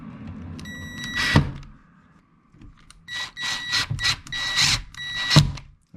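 Power driver running screws into a window air conditioner unit's mounting during installation, several short whirring bursts with pauses, close and fairly loud, alone without talk.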